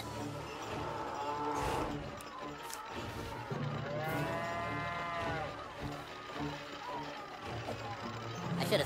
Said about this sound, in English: My three Nazi cow minions will take care of you.